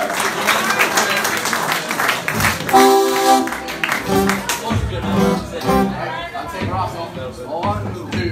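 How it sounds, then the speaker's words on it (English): An audience claps for an Irish Celtic fusion band at a live concert, the applause mixed with ringing instrumental notes and a voice talking over it. "Please give them a big round of applause"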